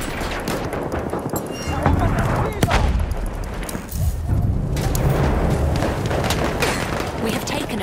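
Machine gun fire in the World War I shooter Battlefield 1 at Fort de Vaux, dense rapid bursts and booming blasts layered into a loud continuous battle din, with shouted voices mixed in.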